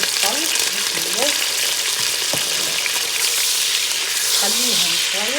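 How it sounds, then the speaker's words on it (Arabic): Onions frying in hot oil for Tunisian lamb pasta, a loud, dense, continuous sizzle close up, with faint voices underneath at moments. "باش حطيت الزيت يسخن، بسم الله باش نحط البنات ونحط البصل"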